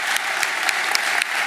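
A full audience at an alumni awards ceremony applauds the honorees, a dense, steady wash of clapping that stays loud and even throughout.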